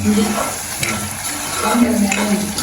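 Fish being fried in a pan for a Tamil fish curry and fry, giving a close, continuous sizzle with stirring scrapes, fairly loud and steady over the whole stretch.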